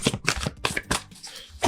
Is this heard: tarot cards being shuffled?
yes